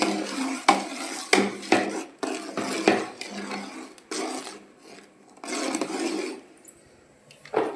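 Spoon scraping around a pot while melting jaggery is stirred, heard as repeated rasping strokes in an uneven rhythm with brief pauses, close and fairly loud, with no talking.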